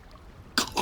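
A voice imitates a woman choking on seawater with one short, harsh gagging burst and a second rough cough after a brief quiet pause.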